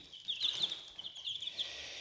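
Chicks in a brooder cheeping in a continuous high chorus of rapid peeps, close and moderately quiet, with no talk.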